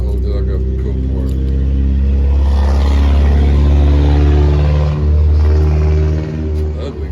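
A loud Chevrolet Tahoe engine revs up close, its deep rumble swelling into a strained roar before easing back, with a few short throttle blips near the end.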